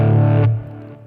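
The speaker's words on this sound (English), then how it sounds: "In this case, I have a distortion, dirty distortion." Electric guitar played through a dirty distortion effect in a mid-tempo rock style: a loud, sustained, heavily overdriven chord rings for about half a second, then is cut short and decays into quieter residual buzz.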